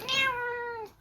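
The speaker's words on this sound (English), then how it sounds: "hey, that's a cat knocking over the tripod here." A house cat lets out a single drawn-out meow, clear and close, about a second long and falling in pitch at the end, with no voices.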